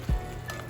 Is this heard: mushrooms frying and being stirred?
yes